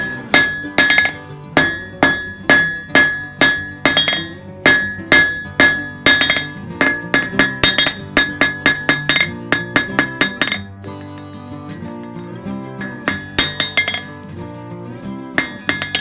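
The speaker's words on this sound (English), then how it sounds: "Then with my hammer, I'm going to be matching that same angle." Square nail taper struck by a blacksmith's hammer on an anvil, with ringing metallic blows in a steady rhythm for about ten seconds. Faster, lighter taps follow, close and loud, with no talk.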